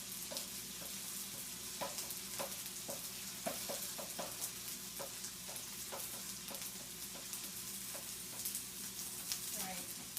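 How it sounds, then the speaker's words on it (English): A large egg sizzling on a hot griddle for okonomiyaki, a continuous close frying hiss dotted with small irregular pops and crackles throughout, no voices over it. "I'm going to crack a large egg right onto the griddle"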